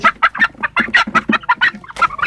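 Young incubator-hatched chicks cheeping: a dense, rapid stream of loud, close chirps in an irregular burst with no pauses and no talking.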